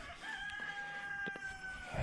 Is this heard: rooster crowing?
yes